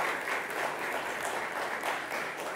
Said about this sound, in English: Can we give our panelists and our moderator a round of applause?